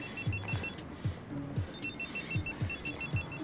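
A telephone rings in repeated short electronic bursts, fairly quiet, with a steady rhythm of rings separated by brief gaps.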